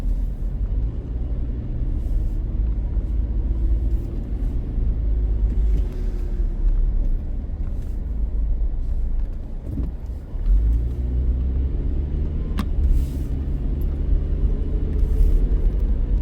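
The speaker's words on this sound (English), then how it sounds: "Just driving you around Woodridge." A car drives through residential streets of Wood-Ridge in Bergen County, New Jersey, giving a steady, loud low engine and road rumble throughout with slight swells as it accelerates, and no talking.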